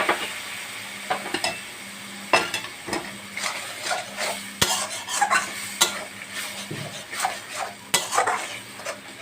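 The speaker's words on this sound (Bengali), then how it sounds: "তারপরে দেবো গুঁড়ো লঙ্কা। জল দিয়ে কষতে থাকবো" Chili-powder spice masala cooked down with water in a pan for an echor and prawn curry, stirred steadily with repeated scraping knocks of a spoon against the metal over a soft continuous sizzle, close and alone.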